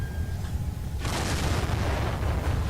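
Detonators blow up in a video game: quiet background, then one loud booming blast at about one second that rumbles and decays for the rest of the moment.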